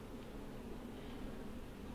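Honey bees hum at a low, steady level throughout a backyard hive inspection, a soft continuous drone with no voices.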